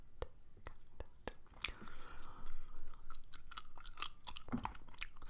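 Gum is chewed close to the microphone in ASMR style, with wet, sticky smacks and clicks, sparse at first and then denser and louder, alongside soft breathy mouth noises.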